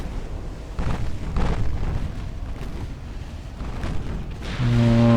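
Naval shells explode in the Ultimate Admiral Dreadnoughts warship game, a continuous rumble of deep booms and blasts over several seconds, loud and close, ending in a sustained low tone with no talking.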